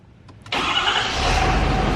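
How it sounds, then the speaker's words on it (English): A 2019 Ford F350 pickup truck with a level lift kit cranks briefly with a couple of starter clicks, then its engine catches loudly and settles into a steady close idle. "you want to start her up so we can check to see if we got any rubbing going?"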